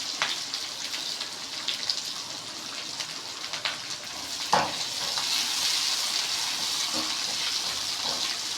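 Chopped onions dropped into hot oil for rava upma, a loud close sizzle that holds steady for several seconds, with a few scraping stirs and a sharp clatter partway through.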